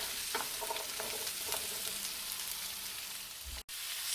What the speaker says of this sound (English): So now I'm going to go ahead and add the butternut squash. Okay, higher your flame and let's get it sauteed for a few minutes.